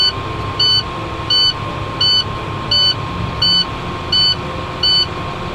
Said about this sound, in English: we're gonna do this until the buzzer stops